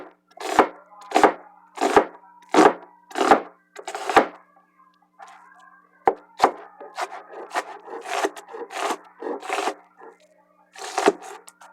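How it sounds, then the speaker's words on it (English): A knife chops bell pepper and okra on a cutting board, a series of crisp, close thuds, first evenly spaced then quicker and more irregular, with a few pauses. "Cut up the bell pepper and this beautiful okra."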